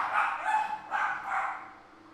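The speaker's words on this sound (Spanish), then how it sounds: "De repente los perros saltaron, no sé si los escucharon" Dogs bark in a couple of short bursts, fairly close and moderately loud, with a brief yelping quality before fading out.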